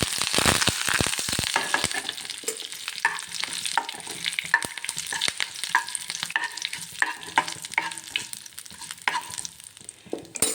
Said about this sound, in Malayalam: കടുകിട്ട് പൊട്ടുമ്പോൾ നമുക്ക് കുറച്ച് ജീരകം കൂടി ചേർത്ത് കൊടുക്കാം കുറച്ച് കരിവേപ്പിലയും കൂടി ചേർക്കാം